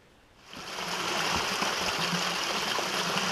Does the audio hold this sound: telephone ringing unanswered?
no